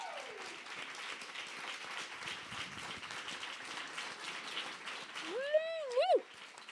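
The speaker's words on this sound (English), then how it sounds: "On va juste commencer avec un applaudissement" An audience at an art conference applauds with a steady, dense patter of clapping throughout, and a voice rises briefly over it near the end.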